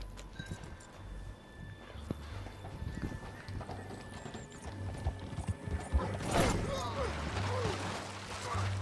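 Rhythmic hoofbeats of a galloping horse in Red Dead Redemption 2 pound steadily, with a brief whinny and game-like mechanical clicks mixed in.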